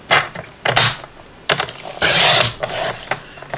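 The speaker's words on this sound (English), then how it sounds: "I'm going to turn one piece and I'm going to cut it down at 4" A 12 by 12 sheet of card is cut down with a paper trimmer at close range, with several short scraping slices and clicks separated by pauses, one longer cut near the middle.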